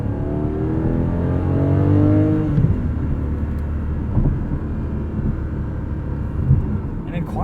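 A 2021 Porsche 718 Cayman GTS 4.0 driving with its exhaust valve open, its engine droning and rising in pitch before easing off into a steady rumble, heard from inside the car under continuous talking.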